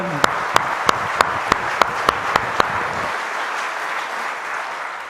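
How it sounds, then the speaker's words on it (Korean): A church congregation at Sunday worship claps in praise of God, slow, loud unison beats at a steady rhythm over a sustained wash of applause that cuts off abruptly about three seconds in. "우리 살아계신 하나님 앞에 영광의 박수를 다시 한번 올려드립시다"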